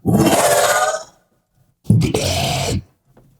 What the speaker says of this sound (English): this track, I think, was the monster dying.